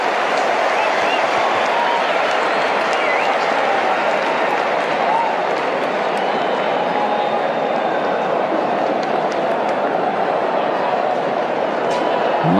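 A cricket stadium crowd roars steadily during a super over, a dense, continuous wash of cheering and yelling that stays loud and unbroken throughout.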